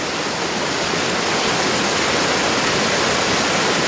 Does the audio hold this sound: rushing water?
yes